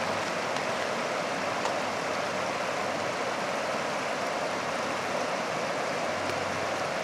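Creek swollen after a storm rushes steadily beside a damaged road near an old pavilion, a constant broadband roar of flowing water, even and unbroken, with no voices.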